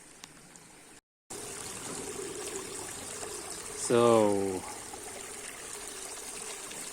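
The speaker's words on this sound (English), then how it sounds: "I opened the valve. As you can see, the water flow is not steady yet." Water flowing through a hose pipe after a valve is opened for a micro hydro bucket test, a faint steady trickling wash with a brief dropout early on; a short spoken word comes midway.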